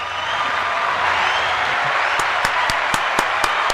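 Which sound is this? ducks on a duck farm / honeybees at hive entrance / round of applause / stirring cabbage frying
round of applause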